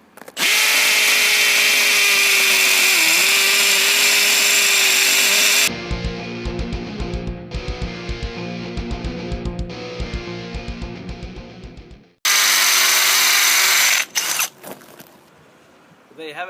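A Milwaukee cordless hammer drill whines loudly, then switches to a hammering, rattling drive as it bores, stops, and starts again with a high whir before winding down.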